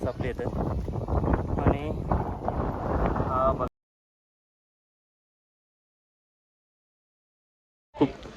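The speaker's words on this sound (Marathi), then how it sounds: "तो थंडगार वारा येतो ना" Cold wind gusting on a mountain trek at Harishchandragad, a steady rushing buffet against the microphone for a few seconds before cutting out, then briefly returning.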